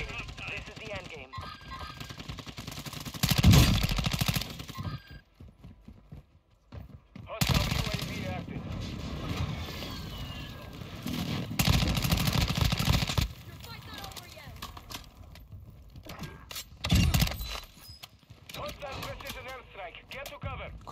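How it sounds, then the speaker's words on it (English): Automatic gunfire bursts in Warzone 2 Resurgence mode, several loud broadband volleys at irregular intervals with game voice callouts and background action in between. "I'm taking fire!"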